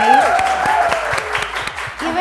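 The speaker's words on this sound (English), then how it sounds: "you can clap for me" Audience applause at an actors' circle talk, a dense patter of clapping running steadily throughout, fairly loud and close, with a voice briefly audible over it.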